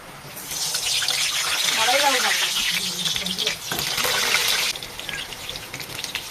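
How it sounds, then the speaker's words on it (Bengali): Potatoes go into hot oil in a wok, giving a loud, gushing sizzle that swells and holds, then dips briefly before surging again, with a voice speaking over it. "তেল গরম হয়ে গেছে এবার আলু ছাড়বো"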